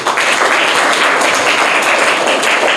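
A group of government school students bursts into loud, dense clapping during a quiz competition, a continuous close wash of applause with no break.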